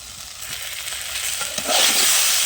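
Okra frying in a pan crackles and hisses as a spatula stirs it, the sizzle growing louder near the end of the short stretch, with no voices.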